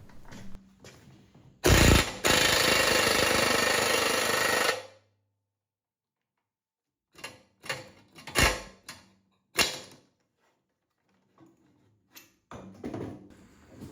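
A tube expander working 321 stainless steel header tubes for a 2JZ turbo header, with a loud, harsh three-second burst of grinding noise and then several shorter rattling bursts separated by pauses.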